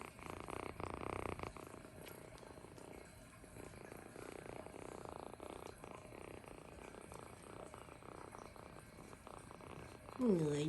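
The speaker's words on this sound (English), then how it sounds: "You hear her purring?" A kitten purrs in a close, steady, continuous low rumble that runs almost the whole time, with a brief louder sound near the end.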